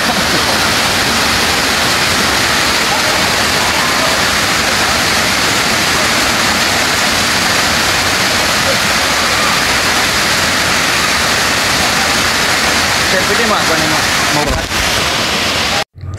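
Tinago Falls pours in a loud, continuous roar of rushing water, steady and close, filling the whole stretch before cutting off abruptly at the end.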